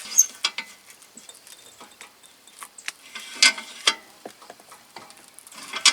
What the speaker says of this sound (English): So I've got the jack sideways because I don't want it to come out or in, I just want it to go up.